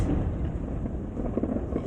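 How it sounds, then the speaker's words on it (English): Thunder during a lightning storm in Taiwan, a steady low rumble that fills the whole stretch, with a few louder rolling swells near the end and no talking. "That's a strong thunder."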